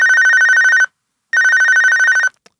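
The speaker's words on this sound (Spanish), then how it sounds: "sonó mi teléfono" A telephone rings in two long electronic bursts separated by a short pause, loud, close and alone with no other sound.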